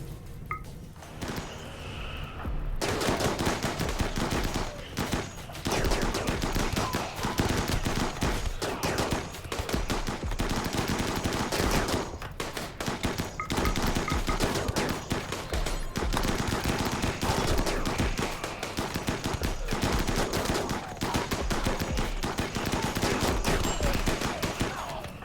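Sustained, dense gunfire rattles in a shooter game for over twenty seconds: rapid automatic bursts and overlapping shots, loud and close, with only a short quieter stretch at the very start.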